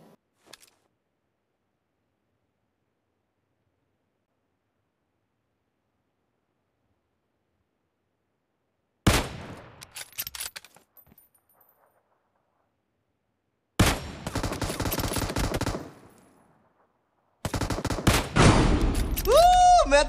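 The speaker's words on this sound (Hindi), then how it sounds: "बड़ी टुच्ची स्नाइपर गन है यार" PUBG sniper rifle fire comes in sharp, loud bursts separated by silence, each crack trailing off, the last cluster denser with chaotic in-game noise.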